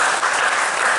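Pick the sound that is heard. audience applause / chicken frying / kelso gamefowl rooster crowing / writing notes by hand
audience applause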